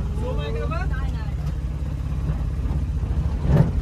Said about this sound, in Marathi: टाटा गाडी आहे, टाटा डमडम